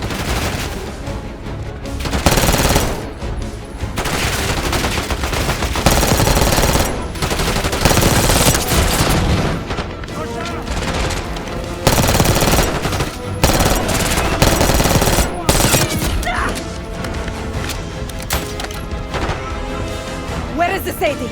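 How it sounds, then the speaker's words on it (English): Sustained automatic gunfire in Call of Duty Black Ops 6's Blood Feud mission: dense, loud bursts of rapid shots with crashes and booms, nearly continuous for about twenty seconds, with shouted voices mixed underneath. "Shoot them!"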